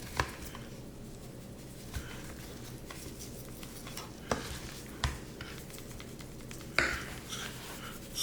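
Seasoning is worked onto raw lamb shanks with salt, garlic powder and pepper: quiet, irregular pats and light taps at close range, with a few sharper knocks against a surface.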